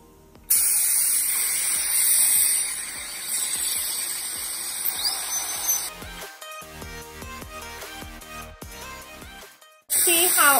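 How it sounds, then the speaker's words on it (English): A dental handpiece with a polishing burr whines high and steady while smoothing a temporary anterior crown. It starts abruptly, continues for about nine seconds, cuts out briefly and then resumes. "I'm going to change my burr to more of a polishing burr"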